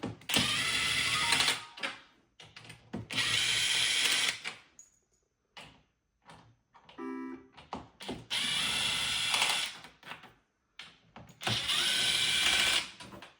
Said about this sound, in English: we're gonna remove the 1, 2, 3, 4 screws, and we will lift the control deck